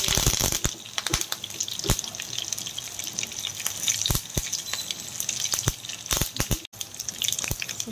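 Curry leaves crackle and sizzle in hot oil while tempering for drumstick-leaf dal, a steady close frying hiss broken by frequent sharp pops and spits.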